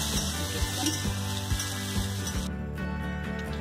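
Vegetables and carrot fry in a pan for mixed fried rice, with a constant close sizzle over a droning hum and regular rhythmic clicks and scrapes of stirring, and no talking.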